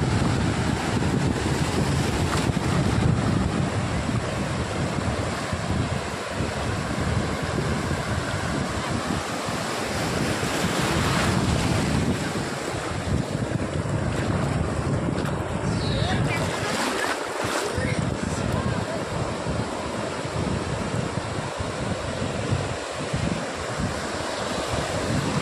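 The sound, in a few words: ocean waves at Dindi beach, Andhra Pradesh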